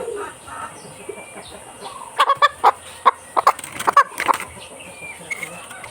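Several sick chickens with coryza, a bad cold, cluck in short, close bursts that cluster into a busy run midway, over a quiet farm background.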